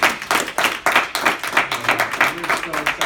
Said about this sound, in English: Another round of applause there for Daniel.